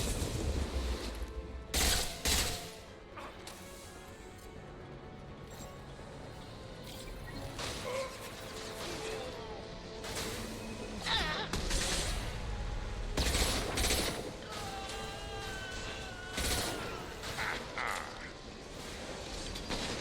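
Gunfire in the action game Mass Effect 2, loud sharp bursts of shots scattered irregularly through a busy combat scene with mechanical clatter and whooshes in between.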